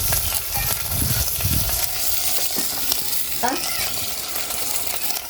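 Mutton trotters frying in hot tempering over a wood-fired clay stove, a continuous loud sizzle and crackle with a few soft thumps and stirring scrapes, no talking.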